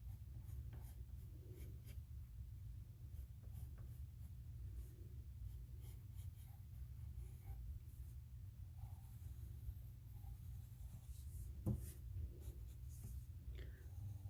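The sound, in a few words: pencil drawing outlines on paper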